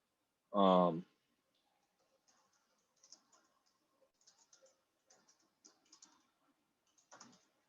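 Scattered, light clicks of computer keys being typed in short bursts while working on a computing cluster, preceded by a brief spoken word, fairly quiet in an otherwise silent room.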